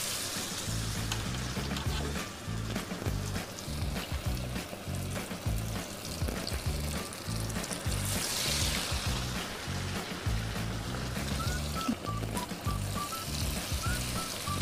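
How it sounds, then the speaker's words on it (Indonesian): Flour-coated bread frying in hot oil, a steady dense sizzle with bubbling crackle running unbroken throughout, close and loud with no talk. "Saya akan menggoreng roti ya"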